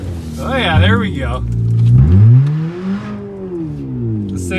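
Straight-piped Pontiac with no muffler revving hard, a loud raw engine swelling up and down close by while people talk over it.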